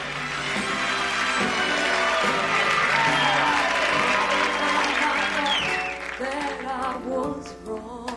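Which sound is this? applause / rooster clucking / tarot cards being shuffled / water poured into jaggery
applause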